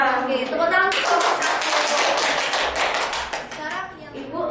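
A classroom group claps together for a few seconds, a dense burst of many hands close by with children's voices chattering underneath.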